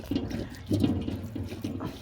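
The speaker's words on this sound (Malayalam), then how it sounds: "അപ്പോഴത്തെ വെള്ളമൊക്കെ നന്നായിട്ട് താഴോട്ട് പോകണം" Water drains from pressed arrowroot pulp while arrowroot powder is being made, with soft repeated trickling and splashing pulses that stay near and fairly quiet, and no talk.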